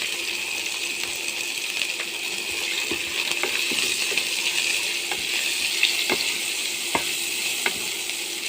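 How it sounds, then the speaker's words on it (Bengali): Prawns fry with salt and turmeric in a pan, a steady bright sizzle with sharp clinks of a spatula or ladle against the pan every second or so, close and unaccompanied by speech. "এবার আমি চিংড়ি মাছগুলো ভাজি করে নেব।"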